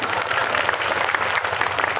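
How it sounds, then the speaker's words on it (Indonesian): An audience claps for the organizing committee at a Maulid celebration held in a mosque. Dense, steady applause continues loud and unbroken for the whole moment, with no talking over it. "Sekali lagi tepuk tangan buat panitianya dong"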